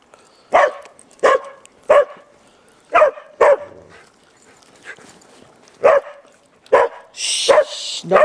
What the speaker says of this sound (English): Shh, shh, no barking.